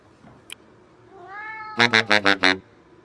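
A cat in a kitchen gives a rising drawn-out meow and then a quick run of five loud, close meows, with a brief tap just before.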